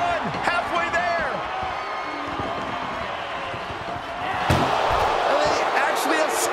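An ambulance door slams shut during a WWE 2K24 ambulance match, a loud impact heard over excited commentary and crowd noise from the video game arena.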